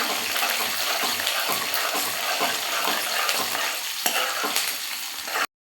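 Garlic and three whole dried red chillies frying in oil in a pan for garlic pickle, a dense continuous sizzle with stirring scrapes throughout, ending abruptly.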